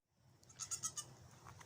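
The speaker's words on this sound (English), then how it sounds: "let's go see the goats" Goats on a small farm give a few quick, nasal bleats in a row at moderate distance over a low background rumble.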